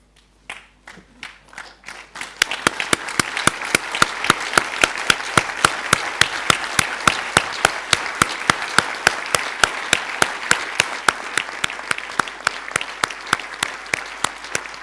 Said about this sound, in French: Levons-nous pour l'applaudir